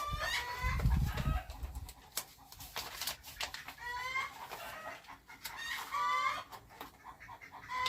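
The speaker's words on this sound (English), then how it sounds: "my chickens decided they're going to let us all know that they've laid an egg and they're happy about it" Hens cluck loudly after laying eggs in a busy, repeated rhythm with harsh squawking calls, close by, after a deep thump at the start.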